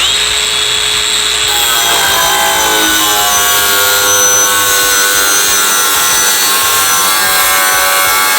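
A DeWalt 4051 cordless grinder cuts steadily and loudly up close, its high, strained whine holding for the full stretch while the cutting disc bites in, with a slight drop in pitch as it loads.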